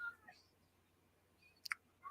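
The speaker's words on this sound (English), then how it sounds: "Who's meowing in the background?" A grumpy cat meows in the background, a few faint, brief cries separated by quiet.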